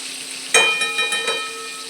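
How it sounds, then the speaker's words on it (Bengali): Eggplant slices fry in hot oil for a Kali puja offering, a steady close sizzle that flares into a sharp crackling burst as a slice goes in, then settles into a softer, even hiss. "একে একে বেগুন ভেজে আস্তে আস্তে তুলে নেব"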